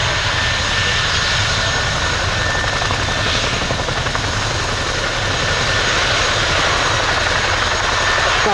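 A Chinook twin-rotor helicopter at the RIAT 2024 airshow gives off a loud, steady engine whine and rotor roar, holding constant and close throughout with no talk.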